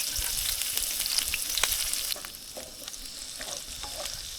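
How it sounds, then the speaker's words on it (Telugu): Beans and vegetables frying in oil over a high flame for egg fried rice, with strong, continuous sizzling and occasional stirring scrapes that ease slightly partway through. "ఫ్లేమ్ మాత్రం హై ఫ్లేమ్లోనే ఉండాలి ఈ వెజ్జెస్ అన్నీ ఫ్రై అవ్వటానికి"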